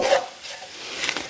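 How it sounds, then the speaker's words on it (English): A spoon drags through flour and meat drippings in a pan while making a homemade brown gravy, giving short scraping, rasping strokes close by with no one speaking. "I stir that around, and it's going to get real thick and dry"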